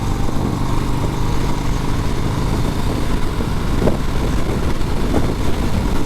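A 2020 Harley-Davidson Sport Glide motorcycle rumbles steadily while being ridden, a continuous low engine drone mixed with road and wind noise, loud and close with no break.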